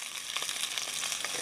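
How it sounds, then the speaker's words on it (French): Food sizzles steadily in a pan over an Ecozoom Versa wood-burning stove, a close, continuous crackling fry with small pops and no voices. "ça grésille là-dedans. Ça chauffe bien"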